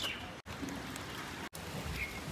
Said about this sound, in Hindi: बारिश स्टार्ट हो चुकी है अब